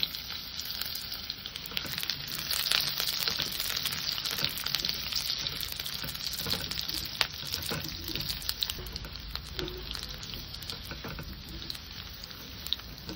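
Potatoes sizzle and crackle steadily in a hot pan, with irregular scraping and clinks as they are stirred, continuous throughout with no talk.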